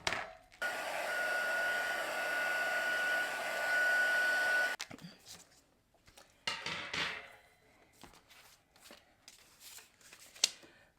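A small heat tool or dryer blows steadily for about four seconds while drying watercolor ink on a card background, then cuts off. Scattered paper rustles and handling clicks follow.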